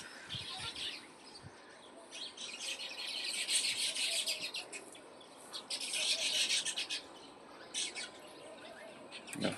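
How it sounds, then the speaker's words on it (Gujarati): Sparrows pecking at scattered grain outdoors on a misty, humid morning chirp in busy overlapping bursts, some near and some farther off, along with faint scratching and rustling. "ચકલા આવી ગયા છે ચણ ચણવા."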